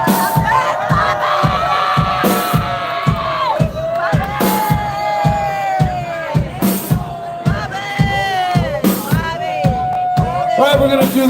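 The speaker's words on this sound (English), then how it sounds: "So how about a big round of applause for the Earl family?" At a brass band festival, a loud crowd whoops and cheers with rhythmic clapping throughout, while a voice talks and shouts over the noise.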